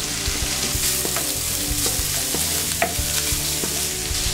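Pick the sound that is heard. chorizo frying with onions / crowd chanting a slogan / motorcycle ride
chorizo frying with onions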